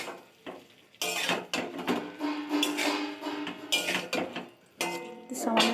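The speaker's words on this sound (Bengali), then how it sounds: "একটু একটু নাড়িয়ে ছাড়িয়ে নেবো" Cauliflower florets stirred in a pan in a village kitchen: intermittent metallic clinks and scrapes of a utensil against the pan, in bursts with short pauses, close by, with some voice in the background.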